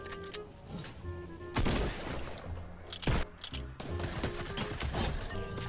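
Battle royale gunfire in Fortnite, with scattered shots and bursts, some loud and close, some farther off, mixed with game effects and occasional talk.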